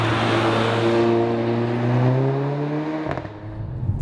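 A 2015 Mercedes-Benz GLA 45 AMG engine accelerates hard, its loud, rising turbocharged note climbing steadily for about three seconds before a sharp gear change drops the pitch; no voices.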